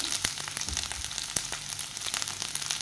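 Garlic, ginger and chillies crackle and sizzle steadily in hot oil, a close, continuous frying hiss broken by sharp little pops and spits.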